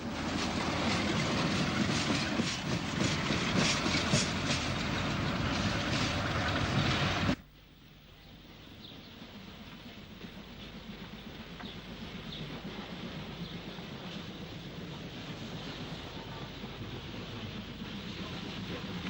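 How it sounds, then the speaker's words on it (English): A Type 4 diesel locomotive hauls a special train past, loud and close at first with dense broadband rumble, then cutting abruptly to a quieter, steady rolling drone that persists to the end; no voices. "The final special was hauled by a Type 4 diesel"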